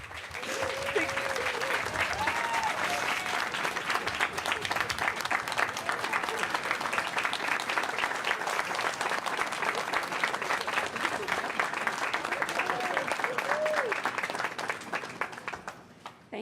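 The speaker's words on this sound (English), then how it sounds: "I think that's deserving of one more round of applause" Sustained applause from an audience at a ribbon-cutting ceremony for a new middle school, dense steady clapping lasting about fifteen seconds before tapering off, with a voice briefly heard beneath it.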